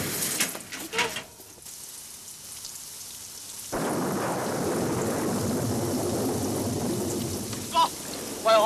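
Heavy rain pours steadily with thunder, a loud, continuous wash of rainfall. A sharp surge starts partway through and holds, with brief louder bursts near the end.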